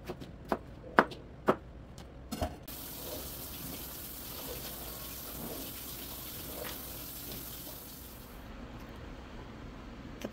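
Peeled potatoes washed under a running kitchen tap, a steady soft gush of water lasting several seconds, preceded by a few sharp knocks and clatters, then the flow cuts off near the end.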